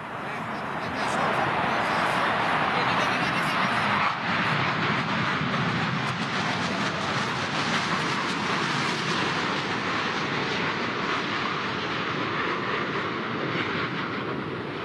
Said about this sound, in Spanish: De un Mirage 2000, una de las naves más poderosas que tiene la Fuerza Aérea del Perú.